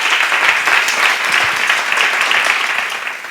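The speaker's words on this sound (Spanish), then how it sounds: "Pido, por favor, un gran aplauso" Audience applause filling a presentation hall on artificial intelligence and the future of learning, steady dense clapping of many hands throughout, loud and close, with no speech.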